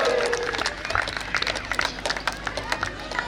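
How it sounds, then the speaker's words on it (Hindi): Crowd clapping at a Mahashivratri festival gathering of a Devasi Raika Rabari youth association, sharp individual claps in an uneven rhythm that grows denser toward the end, mixed with background crowd noise and a voice. "बिल्कुल तालियां रुकनी नहीं चाहिए"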